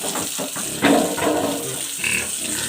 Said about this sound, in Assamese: এইজনী জগিব লগা গাহৰিজনী